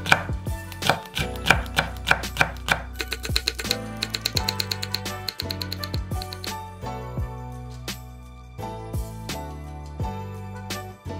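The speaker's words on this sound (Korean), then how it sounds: "청양고추 1개는 슬라이스해서 담고" A knife chops scallions and a Cheongyang chili pepper on a cutting board, starting with brisk, evenly spaced knocks, speeding into a rapid run, then easing into slower, separate slices, all up close with no talking.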